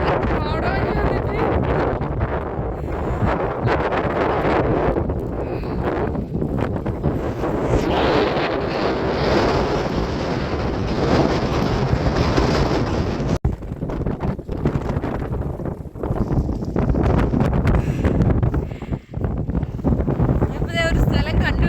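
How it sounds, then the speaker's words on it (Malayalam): Strong wind gusts hard against the microphone while hiking in heavy rain at Coumshingaun Lough, a loud, continuous roaring buffet that never lets up, with a voice faintly present at times. "കാരണം നല്ല കാറ്റുണ്ട്."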